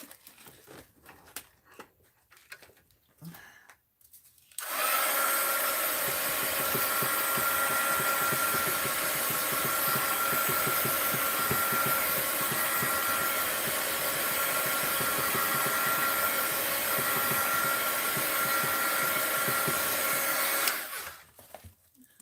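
Heat gun drying a fabric art journal, a steady loud blowing roar that runs for about sixteen seconds without pause after some brief handling noises, then cuts off abruptly.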